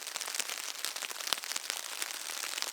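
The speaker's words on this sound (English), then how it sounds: "it started pouring down with rain" Steady rain drums on a fly shelter at a camp during red stag roar season, a dense, even patter of close drops with no voices over it.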